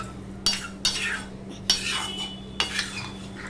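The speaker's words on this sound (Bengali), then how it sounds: "দিয়ে সম্পূর্ণটা আমি মিশিয়ে নিলাম, ভালো করে নেড়ে নিলাম গরম মশলা মিষ্টি সব দিয়ে" A spoon stirs garam masala through a potato, papaya and soybean curry in a metal pan, giving four separate scraping clanks over a steady low hum.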